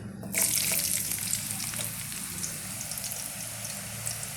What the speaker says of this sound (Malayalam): ഞാനത് ഇതിനകത്തോട്ട് ഇട്ട് കൊടുക്കുകയാണ് എണ്ണയിലോട്ട് എണ്ണ ചൂടായിട്ടുണ്ട്